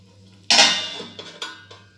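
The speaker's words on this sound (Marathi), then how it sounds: "तर आपण आता ह्याच्यावर झाकण ठेवून घ्यायचे" A metal lid set down on a pot of cooking vegetable sabzi: one sharp close clang followed by a few lighter rattles and clinks as it settles, with no voices.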